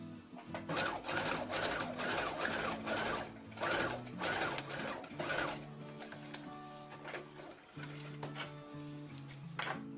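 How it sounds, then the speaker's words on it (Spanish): A sewing machine runs in bursts of rapid stitching while sewing a seam on a lace bodysuit at home, its loud mechanical chatter close and steady, pausing briefly between runs. "Ya pasé la primera costura de asentamiento."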